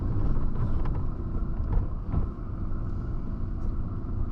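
A cheap old car's engine runs at idle, a loud, close, continuous low rumble with slight unevenness that may be a misfire.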